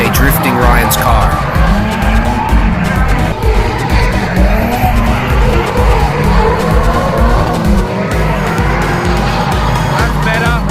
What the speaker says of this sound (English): This is PJ drifting Ryan's car.